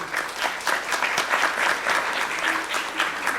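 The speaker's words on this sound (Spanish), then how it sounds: "Un aplauso para Alain." Lively applause from a sizable audience at a business financing forum panel, dense clapping with a slightly pulsing rhythm, continuous and fairly close.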